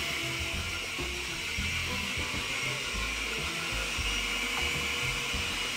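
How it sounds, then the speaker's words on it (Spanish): Blender whirring steadily as it grinds peanuts for a Tonga Manabita dish, a constant high hiss and whine throughout with no talking over it. "vamos a licuar nuestro maní"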